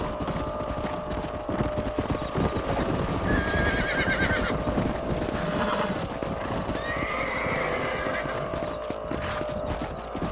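Horses whinny and hooves clip-clop steadily over a busy, continuous background in the video game Red Dead Redemption, with voices talking now and then.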